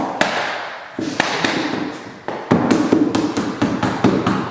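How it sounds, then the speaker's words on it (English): A rubber mallet taps vinyl plank flooring into place: about ten sharp, close knocks in an uneven rhythm, some in quick pairs, with no talking. "Just a light tap with a rubber mallet."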